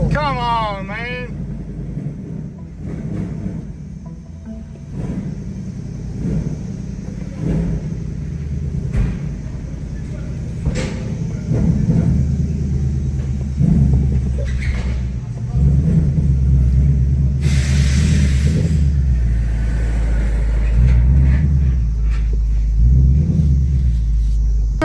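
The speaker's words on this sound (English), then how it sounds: "we're gonna go ahead and take these off and take the car up the road and see how she drives" A 2024 Mustang GT, once wrecked and rebuilt, driving up a road, its low engine rumble steady and close with wind and road noise throughout, rising slightly later on, while a voice talks over it.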